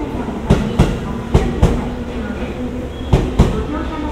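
A JR 213 series local train on the Seto-Ohashi Line pulls out of Okayama Station, a steady rumble broken by repeated sharp clickety-clack wheel beats over rail joints, with faint station talk in the background.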